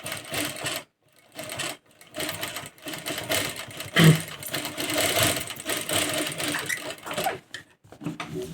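A sewing machine stitching along a shaped neckline runs in bursts of rapid mechanical whirring. The brief stops in between are followed by longer continuous runs, all heard close up and without speech.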